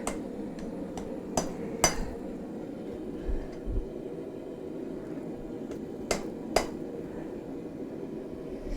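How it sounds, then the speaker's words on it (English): A small, fine hot metal spike is hammered into shape, producing sparse, sharp metallic taps at irregular intervals over a steady low hum of background noise, with no speech. "you can't really hammer it too hard either, or you're gonna risk really warping and breaking it"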